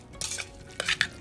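Tomato paste and vegetables stirred in a pot for beef stock, a few close scraping, sloshing strokes with brief sizzle between them and no voices.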